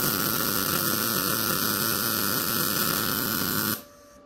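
A MIG welder lays a stringer bead on thin square steel tubing, giving a close, loud, steady crackling buzz that runs evenly for nearly four seconds before cutting off abruptly.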